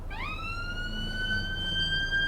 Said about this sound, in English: we'll deal with the ambulance